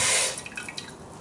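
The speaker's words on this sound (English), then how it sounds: "Slowly, I can feel the moisture draining out of it." Liquid dripping as moisture is squeezed out of food: a brief hiss of running liquid gives way to a few faint, close drips.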